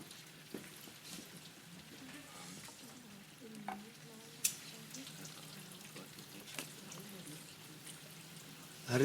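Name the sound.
rain falling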